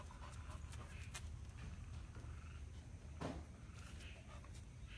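A dog pants steadily and close by, quick rhythmic breaths over a low background rumble, with a brief knock partway through and no talk.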